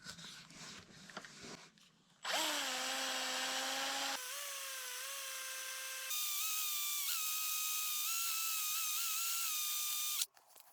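A power tool hones out a metal part for a scissor lift with a steady, piercing whine held for about eight seconds. Its pitch steps up and down a few times before it cuts off.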